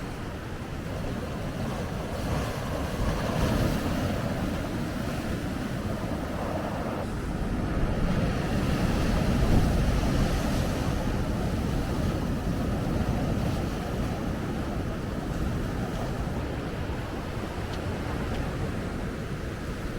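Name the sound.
sea waves breaking on the coast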